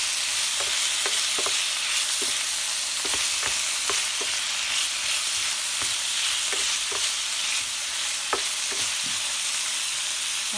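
Chicken breast frying in a pan for a home-cooked steak dish: a steady, loud sizzle throughout, broken by sharp, irregular clicks and scrapes from stirring, with no talking.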